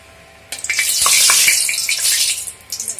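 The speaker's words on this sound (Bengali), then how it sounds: "এবার আমি কড়াইতে তেলটা দিয়ে দেবো" Turmeric-salted fish frying in hot oil in a kadai erupts into a loud, bright sizzle half a second in, holding strong before easing with crackling spits at the end.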